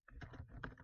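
Brief burst of clicky keystrokes as a Facebook message is typed on a computer keyboard, several quick taps close to the microphone with no talking.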